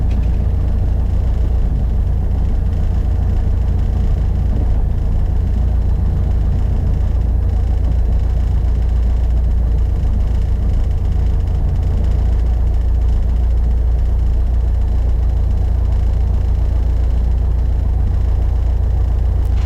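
A Piper Archer light airplane's engine running steadily after landing, a loud, constant low drone and rumble with no talk over it.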